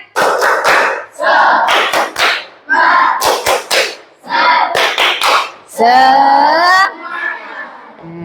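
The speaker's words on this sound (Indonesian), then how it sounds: "Coba saya cek, tepuk semangat." A classroom group of students does the rhythmic 'tepuk semangat' clapping chant, with bursts of patterned claps in quick succession mixed with shouted chanting voices, ending in a sustained group cry.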